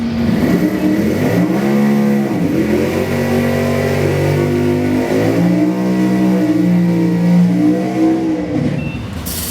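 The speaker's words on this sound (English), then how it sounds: "Gonna dial 1071, so the white Camaro leaves first. Nice wheelies." Drag racing cars launching at a Can-Am drag meet at TMP, a white Camaro pulling wheelies: a loud, close engine roar with rising, falling and rising-again revs that stays strong throughout.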